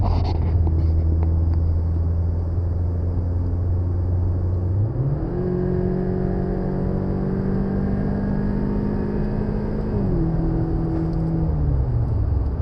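A Chevrolet Cruze with a 1.4 turbo engine, an aftermarket intake and the factory recirculating valve drones steadily from inside the cabin while driving, its engine note stepping up through the revs midway and then dropping back near the end.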